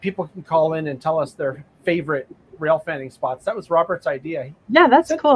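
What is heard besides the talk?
No everyday noise stands out behind the speech.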